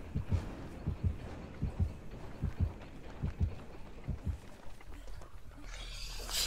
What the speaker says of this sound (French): les battements de cœur, c'est plus il y a de battements, plus il est proche de vous